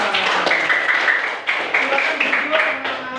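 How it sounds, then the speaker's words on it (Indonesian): A class of schoolchildren claps together in a dense, steady burst of applause that lasts about three seconds, with several faint swells and children's voices mixed through it. "Ya, tepuk tangan semuanya."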